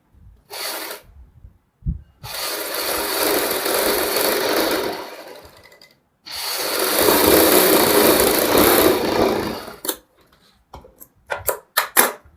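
A domestic sewing machine stitches a narrow 1 to 1.5 inch fabric strip for a boutique neckline, running in two long, steady bursts separated by a pause, then a few short clicks and taps at the end.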